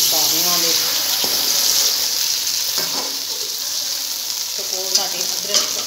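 Washed chicken pieces are stir-fried (bhunna) with lightly browned onions in a pan. A steady sizzle and hiss runs throughout, with occasional spoon scrapes and stirring.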